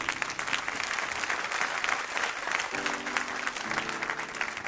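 A church audience applauds and cheers for Jesus during a sermon on effective prayer, a steady dense wash of clapping that carries throughout, with a brief musical tone rising underneath toward the end.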